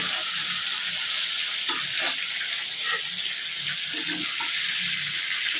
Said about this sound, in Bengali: চিংড়ি মাছটা বেশি ভাজবো না তাই এইরকমই অল্প ভেজে রাখলাম